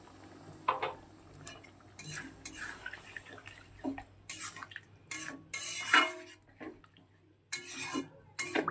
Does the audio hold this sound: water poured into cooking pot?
yes